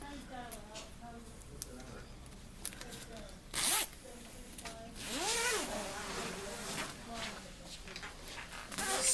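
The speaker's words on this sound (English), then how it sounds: "now I'm going to zip my quilt back onto my backing bar." A zipper being pulled to attach a quilt to the backing bar of a Babylock Momentum quilting frame, several short ripping zips, one sharp and loud, with someone talking in between.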